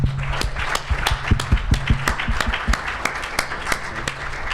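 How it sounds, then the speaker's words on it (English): A room audience applauds a speaker at a talks and demos session, with crisp, uneven individual claps close by over a low hum, continuing steadily for several seconds. "I'd like Jared to come up so we can all give him a round of applause."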